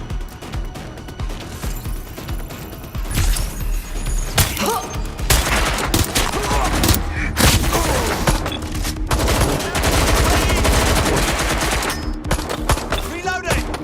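Sustained automatic gunfire from a shootout in Watch Dogs: Legion, dense rapid bursts layered with heavier shots and crashes, loud and continuous throughout.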